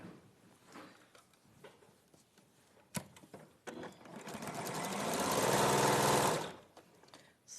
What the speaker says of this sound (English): I'm going to sew with a 1/4 inch seam along that line there